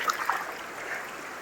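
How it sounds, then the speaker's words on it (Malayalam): Forest river water flowing at Vadattupara, a soft steady wash with faint trickling and splashing, constant and moderately close. "അപ്പോൾ ഈ പുഴ ഈ ഒഴുക്ക് അതൊരു ഫീൽ തന്നെ"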